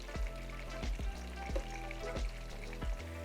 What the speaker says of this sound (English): You're going to fry your calamari for 1 to 2 minutes.